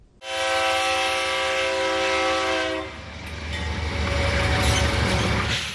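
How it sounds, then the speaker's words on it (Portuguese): A train passing with a loud sustained horn blast at the start, then the rumble and clatter of the cars rolling by, close and powerful. "Ver uma composição passar ao som da buzina"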